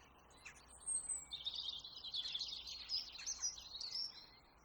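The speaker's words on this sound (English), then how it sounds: "These calls are used for communication between woodpeckers" A woodpecker in a forest gives a burst of high, rapid chattering calls that rise and fall for a few seconds, moderately close, over quiet background.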